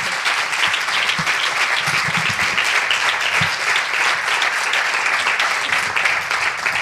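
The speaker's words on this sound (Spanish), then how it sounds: "Un fuerte aplauso" Audience at a book presentation applauds steadily and loudly throughout, a dense continuous clapping with a few louder claps near the start.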